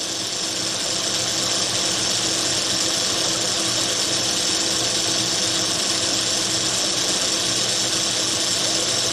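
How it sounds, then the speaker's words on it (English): Atlas 10D metal lathe taking light passes on copper rivets with a sharp cutting tool, heard as a steady, fairly loud motor whir and hiss that continues unbroken without talk. "just taking light passes on that copper with a sharp tool"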